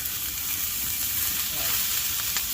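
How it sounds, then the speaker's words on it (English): Steady, close hiss of steak frying in a hot pan at a hot tent camp, an even crackling sizzle that holds throughout without pauses. "every time I cook steak on my channel, it's a really good sizzle"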